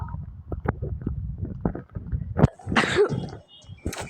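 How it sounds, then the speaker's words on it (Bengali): A video game character inside a haunted building sneezes in a few sharp, close bursts that sound close to coughing. A fuller, breathy burst comes near the middle, with quieter game noises around it. "আরে ভাই অনেক হাঁচি দিচ্ছে ভাই, এটা কাশি না।"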